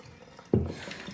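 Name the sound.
hot water running from tap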